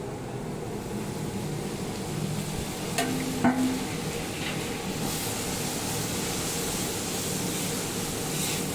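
Garlic paste sizzles steadily in a hot pan as it is stirred in, a constant broadband frying hiss with a few brief scraping knocks partway through, no talking.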